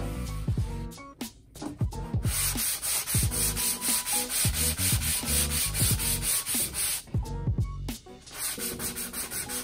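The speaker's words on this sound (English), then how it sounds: "I'm being careful to work in the direction of the wood grain as I'm sanding." Rhythmic back-and-forth strokes of a hand sanding block on wood furniture, along the grain, close and loud, a fast steady scratching with brief pauses between bursts.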